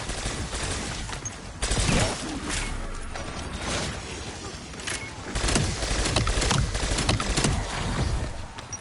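Turret gunfire in the Black Ops 7 video game, loud rapid bursts of automatic shots with mechanical clatter, fairly continuous with louder surges, no speech.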